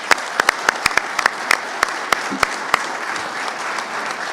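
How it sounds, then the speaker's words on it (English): Applause at a press event introducing the Brantford Bulldogs' new ownership group, with sparse, distinct claps from a modest crowd at a steady, even level. "So just a huge round of applause for Michael"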